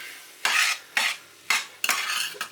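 Cooked Jubilee rice pilaf fluffed in a pot with a utensil: four or five short, close scraping strokes, each a brief bright rasp separated by pauses, with no talk.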